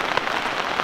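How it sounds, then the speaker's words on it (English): Rain patters steadily onto tarps at a camp in the woods, a close, dense spatter with no voices. "the rain is starting to come down"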